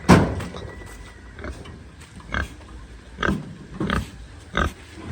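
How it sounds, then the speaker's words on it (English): Pigs and piglets grunt and snuffle on a farm in short irregular bursts, with several louder grunts standing out over low background movement. "Let's have a look at the pigs."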